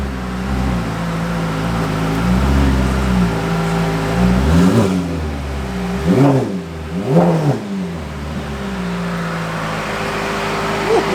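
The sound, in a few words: Ferrari F8 Tributo with full exhaust revving, driving off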